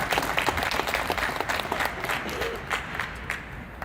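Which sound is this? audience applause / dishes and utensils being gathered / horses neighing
audience applause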